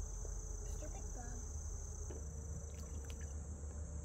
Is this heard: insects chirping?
yes